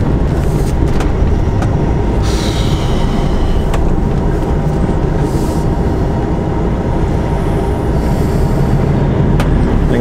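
A 44-ton truck with trailer labours under load, a loud, close, unbroken engine rumble and road drone with occasional faint clicks, and no talking.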